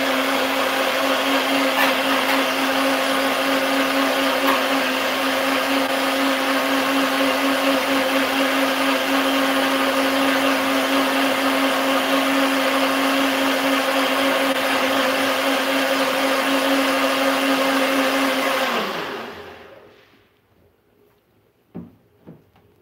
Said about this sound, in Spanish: vamos a moler nuestra masita.